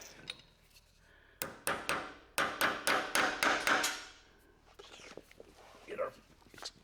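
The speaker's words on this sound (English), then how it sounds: "I'm going to put a hammer here on the dome and smack it once, twice" A hammer smacks spark plugs into place on a 1940 Chevy pickup restomod: a run of about eight sharp, close metallic strikes in quick rhythm, followed by quieter taps and handling clatter.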